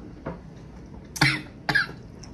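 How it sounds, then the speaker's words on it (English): Two sharp coughs from someone eating seafood laced with extra-hot spicy sauce, close to the mic, with a fainter cough just before them and no talking. "Look at you coughing."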